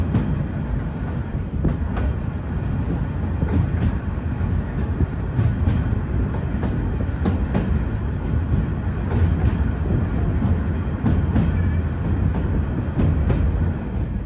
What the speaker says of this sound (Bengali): ট্রেন এসে পৌঁছালো হচ্ছে কক্সবাজারের রামু স্টেশনে।